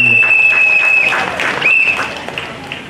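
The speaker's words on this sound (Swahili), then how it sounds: "Jamani, makofi kwake kwa mgeni." An audience at a school ceremony in Pugu applauds a returning guest and former student, steady dense clapping filling the whole stretch at close range with a faint tone running through it.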